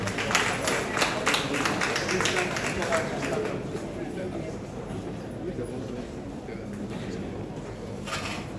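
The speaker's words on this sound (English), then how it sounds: "Let's give her a round of applause." A crowd applauds steadily at the commissioning of the new Parliament of Ghana Museum, dense clapping filling the space at an even level, with a few louder individual claps near the start and some chatter mixed underneath.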